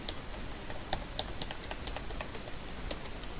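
Single keystrokes tap on a computer keyboard in a quick, irregular series of soft clicks over a low background hiss, with nobody speaking.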